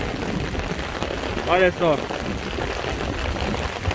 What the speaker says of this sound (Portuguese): muito forte a chuva aqui em Condado do Norte